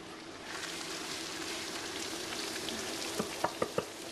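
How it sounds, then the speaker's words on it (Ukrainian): Grated carrot frying with onion in a pan, a faint steady hiss and sizzle, ending with a few quick knocks of a utensil against the pan. "Морква теж йде до цибулі на пательню."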